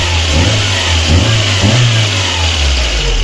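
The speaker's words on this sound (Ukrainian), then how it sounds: "Покажу, що нічого не троїть у нас і по вихлопу вже зараз." Rebuilt Lada Kalina engine running on LPG gas, heard from the exhaust side: a steady, loud, even idle with a deep low rumble and no misfire, with no talking.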